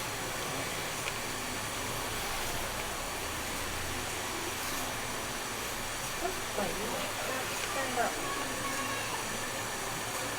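A steady, soft hiss of steam from the idling steam locomotive Green Goddess fills the air, with muffled talk and faint station noises nearby, on the Romney, Hythe & Dymchurch Railway.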